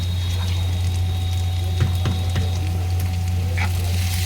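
Chopped tomato sizzling and frying in a pan while Maggi noodles are being made, a steady close sizzle with a strong low hum underneath and a few soft stirring clicks.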